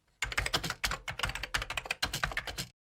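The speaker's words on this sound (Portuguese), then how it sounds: "Tem efeito sonoro de teclado de computador." Rapid computer keyboard typing in separate bursts of clattering keystrokes, close and clear with short pauses between runs, no voices.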